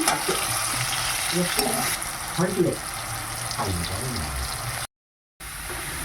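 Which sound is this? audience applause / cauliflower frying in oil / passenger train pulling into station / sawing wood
cauliflower frying in oil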